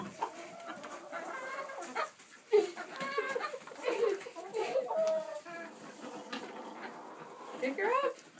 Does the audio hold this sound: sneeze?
no